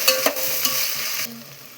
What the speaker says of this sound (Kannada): ಹುರಿದಿಟ್ಟಿರೋ ಬೆಂಡೆಕಾಯಿನ ಇದ್ರೊಳಗಡೆ ಹಾಕ್ಬಿಟ್ಟು ಮತ್ತೆ ಚೆನ್ನಾಗಿ ಡೀಪ್ ಫ್ರೈನ ಮಾಡಬೇಕು